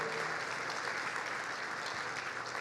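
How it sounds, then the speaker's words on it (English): Applause from an audience at an alumni awards dinner, steady clapping that is fairly faint and distant and holds even throughout. "How about a round of applause for Nick and his family"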